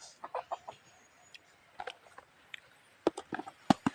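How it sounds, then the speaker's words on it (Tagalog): A chicken clucks nearby in short, irregular bursts, with scattered quiet gaps between the clucks. "Pangalan ng manok ko na yan, si George."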